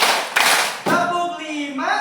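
A classroom of pupils claps together in short bursts of many hands, close and loud, alternating with voices chanting numbers in a counted game led by a teacher.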